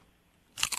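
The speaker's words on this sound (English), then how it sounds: "I'm eating a taco right now." A person eating a taco during a radio phone call, with a brief burst of close, crunchy chewing and biting that starts abruptly after a quiet stretch and runs in a few quick loud bites.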